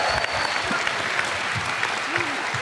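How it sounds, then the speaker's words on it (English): Audience applause for the Super Ninja Steel cast at a Power Morphicon fan convention panel, a steady dense clapping from a large crowd that holds for the whole moment, with a few brief voices faintly underneath. "Let's give them a big round of applause again"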